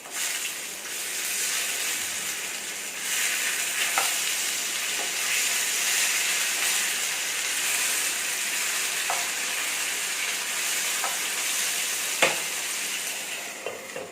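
Chicken sausages sizzle steadily in a pan, a dense, loud frying hiss throughout, with a few faint scrapes as they are turned.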